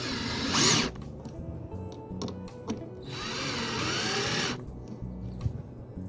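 A power drill mounting a Model 7200 roll guard onto a Bestway pool ladder whirs in two sustained bursts, the second longer, with tool handling noises and clatter in between, close to the microphone.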